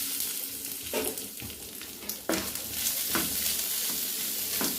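Grated coconut and urad dal roast and are stirred in a pan, giving a steady close sizzle and frying hiss with intermittent scraping stirs throughout, no talk.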